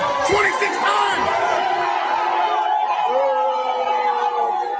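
At a public event where a speaker faces a heckler's question, a crowd boos loudly and steadily, with yells and shouts merging into a continuous roar that drowns out any single voice.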